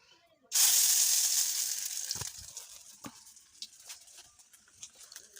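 Small egg and potato fritters dropped into hot oil in a wok over a clay stove set off a sudden loud hiss that gradually softens into a quieter, popping sizzle with scattered crackles.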